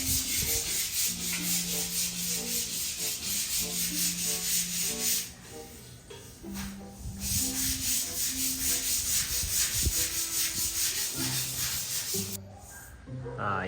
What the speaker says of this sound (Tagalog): Liha-liha muna.